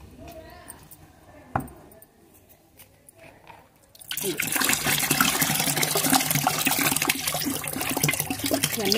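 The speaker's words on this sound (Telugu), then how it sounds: "ఈ బియ్యం కడిగిన నీళ్ళు అయితే వేసేస్తున్నాం చూడండి" Rice-washed water for a homemade rose-plant fertilizer is poured out, a loud, steady gushing and splashing that starts abruptly partway through after a few quieter knocks and drips.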